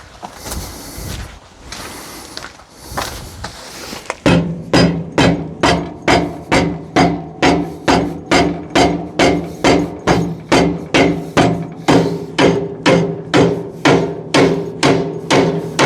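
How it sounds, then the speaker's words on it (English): A rubber mallet strikes an Ifor Williams Knott hitch damper in a steady run of dull, evenly spaced thuds. Softer rustling and handling noise comes first, then the blows follow one after another at close range. "I'm just going to get the persuader, which is a rubber mallet"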